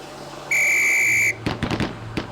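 A loud, steady police-style whistle blast sounds on the range in the video game Police Quest SWAT, held for nearly a second, followed by a quick burst of several sharp gunshot-like cracks and one more after a pause.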